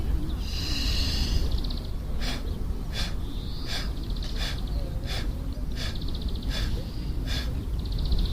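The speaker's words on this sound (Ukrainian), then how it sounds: "Видих ми робимо через рот і ділимо на 8 окремих частин. При цьому кожна частина акцентована." Kundalini yoga breathing: a person exhales through the mouth in eight separate accented puffs, evenly spaced sharp breaths over a steady hiss of room noise, close and moderately loud.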